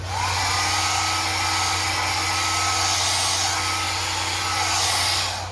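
A blow dryer runs continuously at high power, a loud steady whooshing roar with a low motor hum, starting and stopping at the edges.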